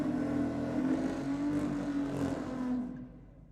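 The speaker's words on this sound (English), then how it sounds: "the BMW about to take on the Falcon" At a night drag racing event, a BMW and a Ford Falcon produce a sustained engine drone, loud and steady before fading out toward the end, with no voices.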